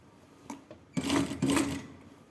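Sewing machine stitching around a blouse armhole with a half-centimetre seam allowance, a couple of faint taps followed by two short close bursts of stitching.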